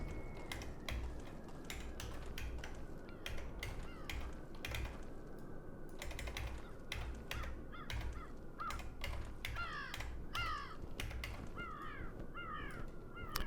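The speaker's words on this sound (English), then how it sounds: "There's a bird here. I can't see it, but I hear it." A crow-like bird in a video game caws repeatedly at irregular intervals over a steady rustling ambient bed, the harsh calls clear and moderately close, with no talk.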